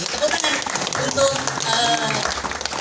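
Audience applause at a poetry reading event, a dense, continuous patter of many hands clapping throughout, with voices mixed in.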